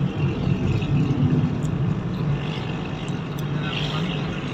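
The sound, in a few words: car engine idling at 800 RPM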